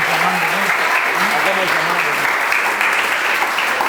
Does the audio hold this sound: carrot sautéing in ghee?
no